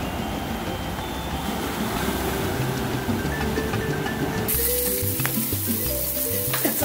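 Sausages frying in a pan, a steady broadband sizzle and crackle throughout, growing brighter and louder partway through.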